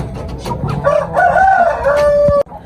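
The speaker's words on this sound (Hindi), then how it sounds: "सिंधी मुर्गा है और चीनी मुर्गी है इसके साथ।" A Sindhi rooster crows once in a rooftop poultry setup in Faisalabad, a loud, close, drawn-out call lasting over a second that cuts off sharply, with faint background clucking.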